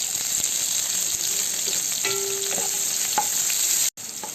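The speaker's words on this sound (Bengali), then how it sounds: "পেঁয়াজটাকে হালকা ভেজে নেব" Chopped onions frying lightly in a pan for khichuri make a continuous close sizzle and hiss, with a few soft stirring knocks, no voices.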